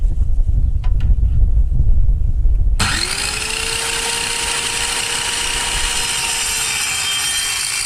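An Evolution metal-cutting saw with a carbide-toothed blade starts up and bites into 1/4 inch steel plate, a sudden loud high-pitched whine and grinding screech that holds steadily for several seconds after a brief low rumble.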